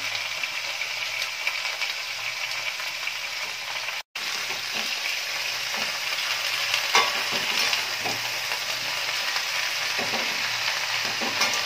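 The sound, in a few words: bottle gourd greens stirred and frying in pan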